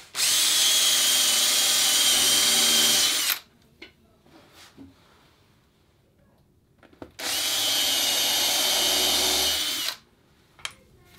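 Two loud bursts from a power drill driving fasteners to attach a wooden cross ball to a dory frame, each about three seconds long and close up, with light handling noise in between.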